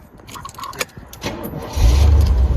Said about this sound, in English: let's start this baby up.